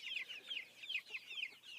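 Pasture-raised poultry chickens cluck steadily in a continuous, close chorus of overlapping calls, with no voices.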